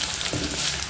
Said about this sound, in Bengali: আলুগুলোকে একটু ভালো করে আমি ভেজে নেব।